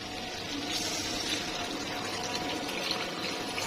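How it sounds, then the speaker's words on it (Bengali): Hot water poured into potato curry for a vegetarian banana-flower fritter dish, a steady hissing, splashing pour heard close up and continuous throughout, with no talking over it. "যতটুকু ঝোলের দরকার ঠিক ততটুকু আমি এখানে জল দিয়ে দিলাম"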